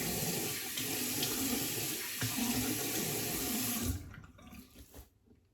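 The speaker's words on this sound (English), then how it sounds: "let me rinse that off" Tap water runs steadily into a sink as a double-edged safety razor is rinsed, a loud continuous splash that cuts off abruptly near the end, leaving a few faint trickles and clinks.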